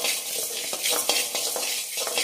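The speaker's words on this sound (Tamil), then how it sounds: "இதையும் நல்லா பொன்னிறமாகவே வறுத்துக்கோங்க" Urad dal roasting in a pan for paruppu podi, a steady dry sizzle with intermittent scraping stir strokes, close and continuous with no talking.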